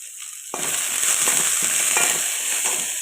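Shredded cabbage with salt and turmeric frying in a hot pan, a loud steady sizzle that starts abruptly and carries faint scraping stirs throughout, close up with no voices.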